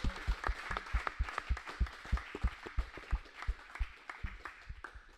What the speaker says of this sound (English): Can we please get a round of applause for our guest today, Bill Stewart.